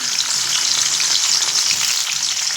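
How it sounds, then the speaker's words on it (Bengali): Salted paneer pieces shallow frying in hot oil, a loud, close, dense crackling sizzle that runs unbroken without any voices. "পনিরগুলো একটু ভেজে নেব তবে পনিরগুলো কিন্তু একদম হালকা ভাজব"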